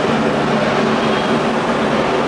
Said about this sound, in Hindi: यही है हमारा ट्रेन, देख पा रहे होंगे, दार्जिलिंग मेल।